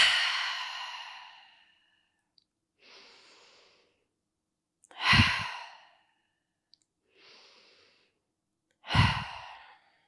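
Slow, deep yoga breaths alternate between long airy exhales and softer inhales, three full cycles, close and alone in a quiet room.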